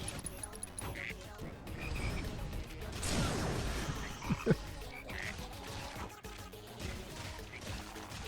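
Frog croaks from the video game Final Fantasy 7 Rebirth, repeated amid busy game sound effects and music, with a couple of sharp louder hits near the middle.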